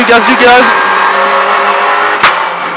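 Engine of a rally car at full throttle on a special stage of the Rallye Quarré les Tombes, a steady loud revving drone inside the car, with a co-driver talking over it.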